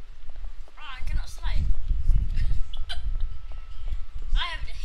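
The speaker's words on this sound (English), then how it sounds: "I have the hiccups." A character hiccups several times in Marvel's Spider-Man Remastered, short sharp catches amid ongoing dialogue, with game ambience and footsteps underneath.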